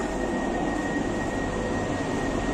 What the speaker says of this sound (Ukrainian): це метро, яке вже вам знімала відео, їздить без машиніста